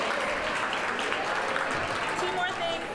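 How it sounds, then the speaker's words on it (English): A crowd at a swimming team banquet claps in a steady, sustained round of applause, with voices talking and calling out over the clapping. "You're applauding everyone."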